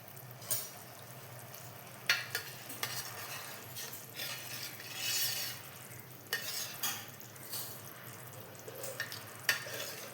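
Melted jaggery thickens in a pan while being stirred, giving soft scraping strokes over a low bubbling sizzle, close and fairly quiet, with a few sharper knocks of the spoon.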